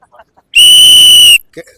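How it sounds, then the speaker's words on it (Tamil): A cricket fan gives a single loud, sustained whistle blast, steady in pitch for nearly a second, with faint murmuring before and after. "டிவிக்கே ஒரு விசில் போட்டுடலாமா?"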